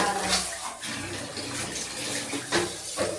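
Warm water pours and splashes steadily while a German Shepherd is bathed, a continuous close rush of water with brief surges.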